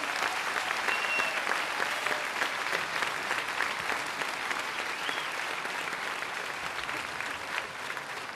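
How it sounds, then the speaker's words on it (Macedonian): An audience applauds musicians at a Macedonian Ilinden Days 2015 concert. The clapping is dense and sustained and fades slightly toward the end. "молам еден голем и огромен аплауз за нив"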